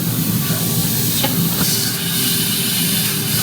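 An air compressor holding 12 bar of pressure gives a steady loud hiss with low mechanical rumble, and a couple of brief clicks partway through.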